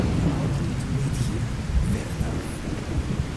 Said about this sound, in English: The rain is coming in my tent.